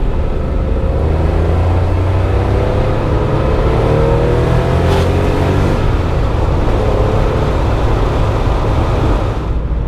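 An old air-cooled, rear-engined Porsche 911 drives a twisty road in Finland, its engine a loud, steady, throaty drone with shifting tones as it pulls through bends, close and continuous.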